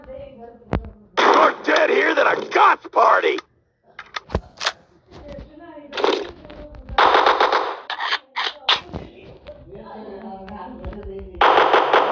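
Shotgun and other gunfire in Call of Duty Black Ops Zombies, bursts of loud rapid shots separated by quieter gaps, with a voice talking in between.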